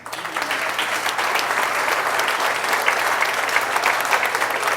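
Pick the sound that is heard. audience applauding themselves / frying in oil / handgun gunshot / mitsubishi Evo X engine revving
audience applauding themselves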